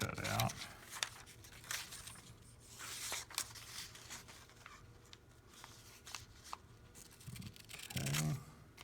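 Scissors cut out paper shapes for a Pythagorean classroom activity, with quiet crinkling, rustling and faint snips heard close up in a calm room.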